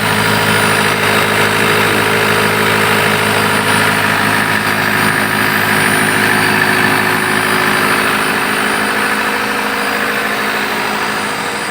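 A 2010 Isuzu Panther Turbo diesel engine holds a steady 1500 RPM with its throttle propped open, giving a loud, continuous, even drone with no talk.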